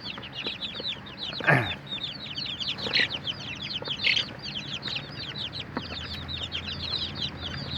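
Dense, continuous peeping of many two-week-old chicks, high-pitched and overlapping, with a few louder chirps standing out against a steady low background hum.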